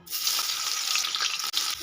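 Young jackfruit pieces frying in hot oil after potatoes make a dense, continuous crackling sizzle that starts sharply, stays even and close, and dips for an instant near the end.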